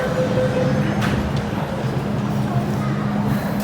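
A subway train at Sham Shui Po Station, Hong Kong, rumbles steadily along with a constant low roar and a faint high whine, enclosed and loud throughout.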